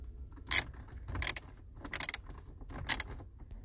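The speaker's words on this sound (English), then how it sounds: "You take those two screws out." Torx 20 screws backed out of the radio trim in a 2012-2018 Ford Focus, heard as a few short bright metallic clicks and rattles in close bursts, alone without speech.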